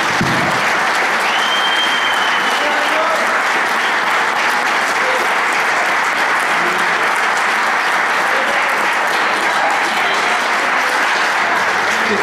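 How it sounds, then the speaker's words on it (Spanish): Congregation at a church gathering applauds loudly and continuously, a thick wash of clapping with faint voices mixed in, holding steady from start to finish. "un aplauso a Jesús, hermano, lo que dice"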